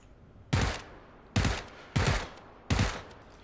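Gunfire in PUBG: Battlegrounds, four loud, sharp bursts of shots spaced roughly evenly apart, each snapping in and decaying quickly over a quieter background.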